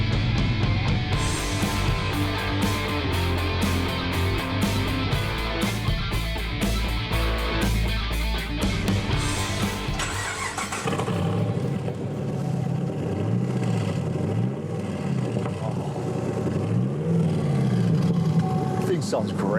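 A classic Ford Falcon's engine fires up and settles into a steady, loud idle with music playing over it, then it revs under people talking nearby.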